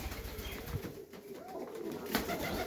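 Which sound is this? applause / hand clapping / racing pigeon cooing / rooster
racing pigeon cooing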